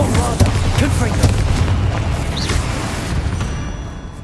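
Bombarda and Confringo explosion spells go off in Hogwarts Legacy with a loud, booming roar that swells early and then rumbles and fades, mixed with crackling magic effects and talking.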